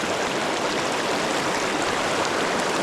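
A Wyoming trout creek rushes past close by, a loud, steady, dense wash of flowing water with no breaks.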